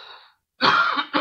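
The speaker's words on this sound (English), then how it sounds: "Just smoker's cough, no COVID" A smoker's cough from a man: two harsh, close coughs in quick succession after a faint breath, loud and dry with no talking.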